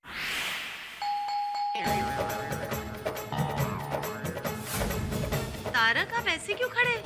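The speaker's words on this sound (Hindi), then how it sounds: "कोई कब से बेल बजा रहा है" A doorbell rings again and again, its chime tones repeating over a busy mix of music and voices, loud and close inside a home.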